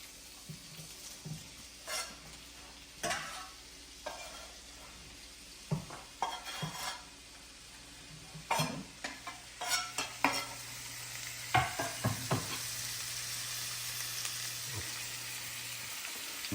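Onions with red and yellow peppers fry in a pan, a steady sizzle with repeated stirring scrapes and utensil clinks against the pan, close and fairly quiet, with no talk.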